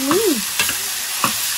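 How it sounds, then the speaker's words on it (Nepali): Food stirred and fried in a pan at home, with a spoon scraping and clinking against the pan in a few distinct strokes over a steady sizzle, close and fairly loud. "यसलाई यसरी हाल्छु अनि चलाउँछु"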